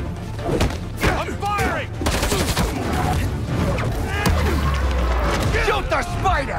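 Gunfire in Marvel's Spider-Man 2, a dense, busy run of bursts and impacts with thuds and crashes, loud and continuous, mixed with game voices speaking over it.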